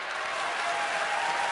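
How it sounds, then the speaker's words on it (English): Shippensburg basketball fans applaud a departing player during a home game against Virginia State, a dense, steady wash of crowd clapping filling the gym for the whole moment with no voices standing out. "McCarthur goes out to applause from the Shippensburg fans who are paying attention."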